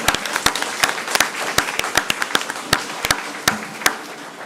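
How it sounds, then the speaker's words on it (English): Scattered applause from a small group honoring school faculty and staff at a county board of education meeting, a few distinct claps spaced irregularly over several seconds rather than a full ovation. "If we could give them a round of applause"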